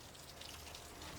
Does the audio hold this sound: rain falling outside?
yes